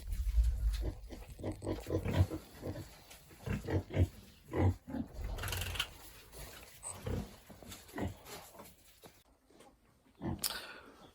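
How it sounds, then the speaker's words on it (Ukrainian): Pigs grunting and snuffling close by, a run of short low grunts with some squeals, fairly loud and uneven, no talking. "наша поросятка входить в гості до кабанчика"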